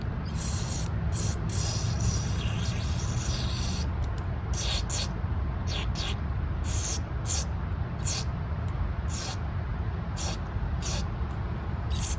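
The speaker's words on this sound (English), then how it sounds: "I'm gonna blow carb spray all around the area, including the emulsion." Carburetor cleaner sprays from an aerosol can onto a Nikki carburetor of a Briggs & Stratton 12.5 HP flathead mower engine, hissing in repeated bursts of varying length, loud and close, over a steady low rumble.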